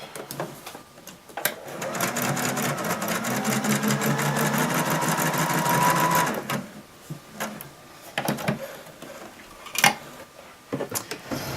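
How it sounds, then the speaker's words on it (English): A sewing machine stitches around the edge of a pillow, a fast steady mechanical whir that runs for several seconds close up, then stops and restarts in short bursts with a few clicks. "I'm just gonna go ahead and sew around that"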